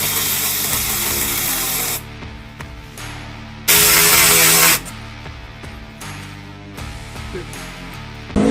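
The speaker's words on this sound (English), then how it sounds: "Spray a little alcohol on there, help it slide on there a little easier." A few bursts of alcohol spray hiss from a bottle close by while fitting silicone parts on a Polaris Xpedition, the longest a loud one-second blast, amid other background noise.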